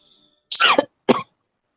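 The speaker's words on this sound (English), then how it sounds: "I was coughing." Two sharp coughs close up, the first longer and rougher, the second short, with silence around them.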